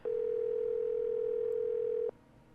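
An old telephone in the Nancy Drew video game The Secret of Shadow Ranch gives a steady, pure dial tone that holds for about two seconds and then cuts off, alone and clear.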